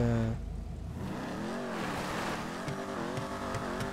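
A car engine in GTA 5 Online revs and accelerates, its tone rising and falling in loud, close sweeps with gear changes and brief tire squeal, alone without talk.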